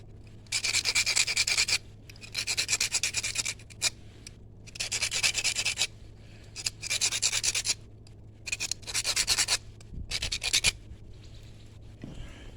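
A knapping tool presses small flakes off the tip of a Wildhorse obsidian point, giving repeated bursts of close scratchy rubbing separated by short pauses.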